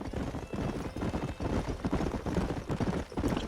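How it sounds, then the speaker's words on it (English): Horse hooves clip-clopping steadily in the Red Dead Redemption video game, a continuous, fairly loud trotting rhythm throughout. "Sound of the horses is a bit a bit loud in my headset."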